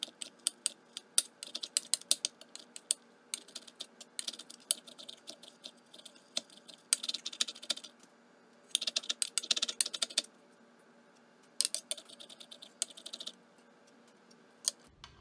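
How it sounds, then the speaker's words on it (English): A knife chops mushroom stems for a vegan stuffing, making bursts of quick, sharp taps separated by short pauses, close and fairly crisp, with no talking. "I'm going to take the mushroom stems and dice them up"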